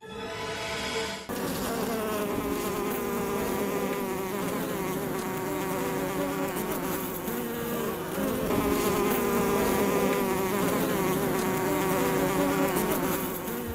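Honey bees buzz continuously in a dense, steady drone that stays loud and close throughout, with no voices over it.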